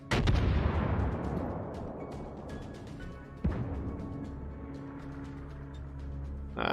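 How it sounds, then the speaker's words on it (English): Heavy naval artillery salvo in World of Warships, a loud booming blast that decays into a long rumble, followed by a second thud midway and another burst at the end, with no talk. "It's gonna be a lot of exchange of fire."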